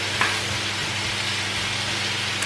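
Shallots and courgette sizzle in a frying pan, a steady close crackle with a low hum underneath and no talking.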